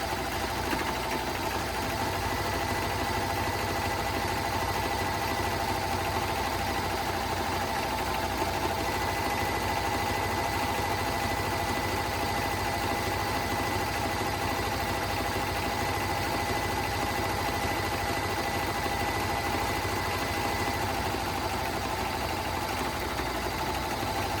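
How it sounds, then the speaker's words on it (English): A serger machine hems around the bottom of a pair of pants, giving a continuous steady mechanical hum and rapid stitching buzz at an even level, close up, with no talking. "I'm just going to go ahead and start serging around the bottom of this, and you can see how well this machine works and does that serge"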